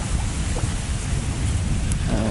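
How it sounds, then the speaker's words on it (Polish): Rain falls at a fishing spot as a steady, dense hiss of patter with a low rumbling undertone. It continues unbroken throughout with no voices. "deszcz."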